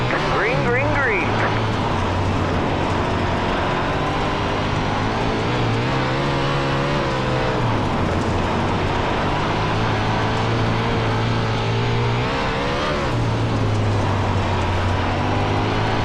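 360 sprint cars race at Limaland, with a continuous loud engine roar that rises and falls as the cars accelerate and lap close by, with talk over the top.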